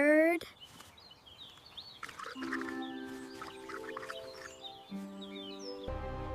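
A small bird chirps faintly in the background, with soft high tweets drifting under steady musical tones and sustained notes throughout.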